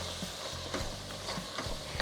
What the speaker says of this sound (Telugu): ఉలవల పేస్ట్ వేసిన తర్వాత కొంచెం ఫ్రై చేసి